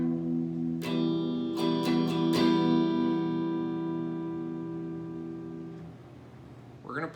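Acoustic guitar strummed in a short down-up pattern for a song: four quick strokes near the start, then the chord rings out and slowly fades, with a brief noise at the end.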